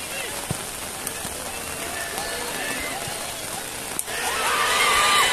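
Heavy rain pours steadily onto a surface at an outdoor football match, a constant dense hiss that swells louder near the end, with scattered voices and faint crowd noise underneath.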